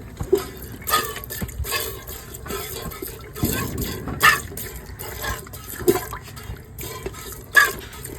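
Cow named Komoli being hand-milked into a pail without oil on the teats, with spurts of milk splashing and hissing into the pail in an irregular rhythm over quiet background sounds.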